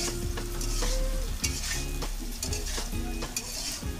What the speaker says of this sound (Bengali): ওই জন্য আলু কটা আগে ভেজে নিলাম।